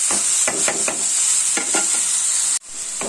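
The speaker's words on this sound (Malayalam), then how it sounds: "കടുക് പിന്നെ അതിൻ്റെ അടുത്ത് കറിവേപ്പില വറ്റൽമുളക് ഇട്ടു എന്നിട്ട് നമുക്ക് നമ്മൾ ചതച്ച് വെച്ചേക്കുന്നില്ലേ അത് നല്ലതുപോലെ ഇട്ടൊന്ന് വഴറ്റിയെടുക്കാം" Crushed clam meat sautéing with mustard seeds, curry leaves and dried chili, with a loud, continuous sizzle and repeated rhythmic scrapes of the spoon across the pan, cut off sharply near the end.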